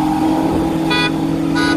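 A stock Corvette engine runs loud and close with a steady throaty drone and harmonic tone, briefly rising twice in short bursts, with no talk.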